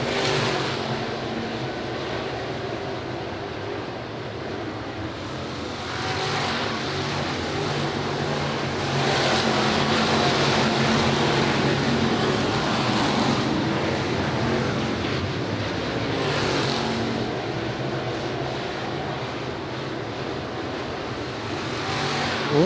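602 Sportsman race cars run single file around the oval at Patriots Park Raceway, a continuous loud engine roar that swells and fades slightly as the pack passes through the corners and down the back straightaway.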